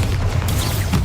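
Bombarda explosive spell cast in the Hogwarts Legacy video game, a single loud, deep booming blast with a low rumbling body that fills the whole moment.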